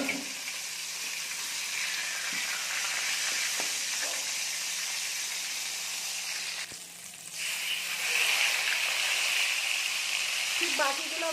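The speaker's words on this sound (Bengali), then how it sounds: "দেখুন বন্ধুরা, আমরা চিকেনগুলো ভালো করে ভেজে নিয়েছি" Chicken leg pieces fry in a pan of oil, giving a steady hissing sizzle that swells louder toward the end, with a voice talking at times.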